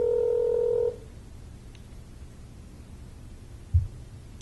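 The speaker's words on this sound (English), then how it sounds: "Get Carrie on the phone today" A phone number being dialed for a call to a home line: a steady electronic tone for under a second, then a quiet line hiss and a single soft thump.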